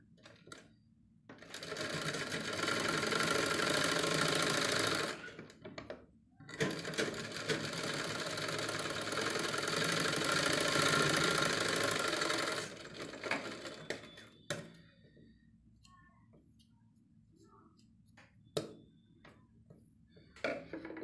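A sewing machine stitches a patch onto cloth in two long, steady runs of loud rapid whirring, split by a brief pause, then falls quiet apart from faint clicks and handling noises.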